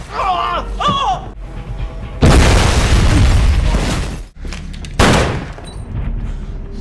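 A house blows up in a film after its gas pipe is damaged: two heavy roaring blasts, the first long and rumbling and the second shorter, close and loud, with voices before them.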